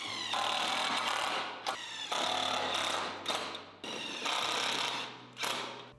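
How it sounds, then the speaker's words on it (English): A power drill drives self-tapping screws into a bracket on a shed door, in four whirring bursts separated by short pauses, each rising and slowing as the screw seats, close and with no talking. "Using the self-tapping screws, secure the bracket to the door using these holes."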